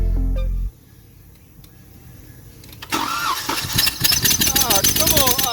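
A hard-starting multi-cylinder car engine cranks over repeatedly after a short pause, the starter whirring rhythmically and loudly without the engine catching, a squeal mixed in, with voices talking over it.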